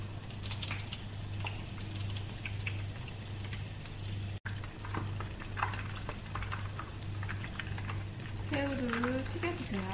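Battered shrimp frying in hot oil, making a continuous crackling sizzle with scattered pops, and a steady low hum running underneath.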